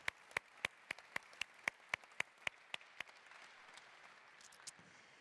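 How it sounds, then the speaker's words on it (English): An audience at a Renault Sport Formula One team car launch event claps in about a dozen sharp, separate claps spaced through the first few seconds, then fading into quiet room noise. "Give him a round of applause"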